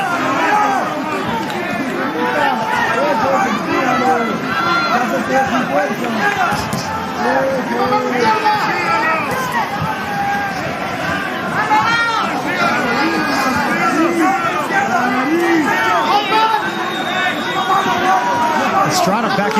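A packed boxing arena crowd of standing fans roars in a steady dense babble and cheering throughout, heard loud and close, with a commentator talking over it.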